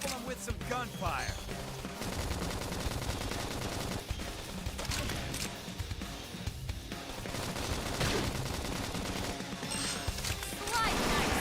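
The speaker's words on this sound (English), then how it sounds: "Now, topple him with some gunfire." Rapid gunfire in the video game Xenoblade Chronicles X, bursts of shots mixed into dense game music and effects, with dialogue and commentary voiced over the action throughout.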